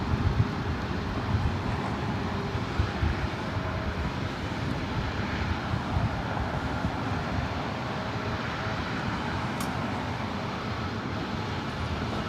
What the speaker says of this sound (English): The Queen lighting up Flight 457 heading back to Frankfurt, and that 747-8 Intercontinental.